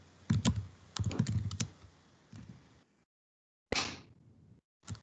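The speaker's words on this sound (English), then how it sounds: "Are you typing that in, Mari, or should I go ahead?" Someone types on a computer keyboard during a work video call: quick, close clattering bursts of keystrokes separated by short silences, with no talking over them.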